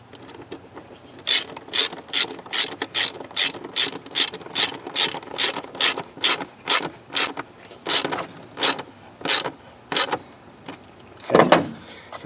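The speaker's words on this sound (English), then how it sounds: "Now we're going to tighten down this clamp again." A ratchet tightens a clamp on the air intake of a Ford Explorer 2.3L, producing a fast, loud, close run of rhythmic clicking strokes that slows toward the end and finishes with a clunk.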